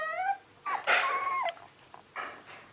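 A Cocker Spaniel puppy whimpers nearby with a few soft, high-pitched whines and short cries separated by brief pauses, quiet and alone.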